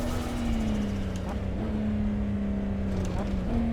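Nissan GT-R engine in Assetto Corsa, climbing Pikes Peak, a steady droning tone that shifts pitch through gear changes, with a voice talking over it.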